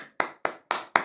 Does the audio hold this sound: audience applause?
yes